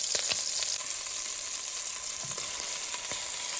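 Chicken pieces fry in olive oil over medium-high heat for coq au vin, a dense continuous sizzle with occasional soft pops and crackles, close and steady.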